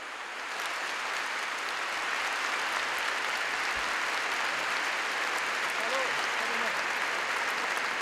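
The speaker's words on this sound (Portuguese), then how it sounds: "vocês aplaudiram antes" Sustained applause from an audience filling a church, steady dense clapping that rises in the first moment and holds evenly throughout, with faint voices mixed in.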